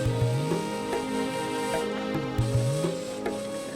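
Peanuts roasting in a pan for poha chivda give a continuous sizzle with scraping and stirring strokes. A steady hum runs underneath, and no one speaks.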